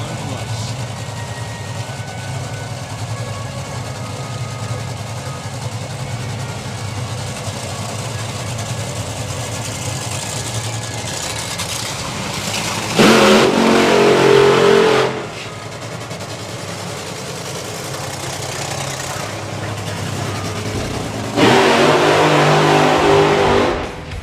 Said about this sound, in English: The signal has been given to fire up the cars.